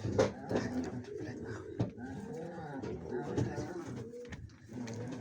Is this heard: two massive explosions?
no